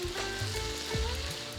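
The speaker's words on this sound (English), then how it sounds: "Mix them all well and saute." Onion, green chilies, carrot, sweet potato, radish and drumsticks sauté in a pan, giving a brief, continuous, fairly loud sizzle with some low rumbling and no voice.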